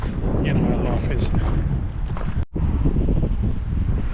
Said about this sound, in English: So it's a bit windy up here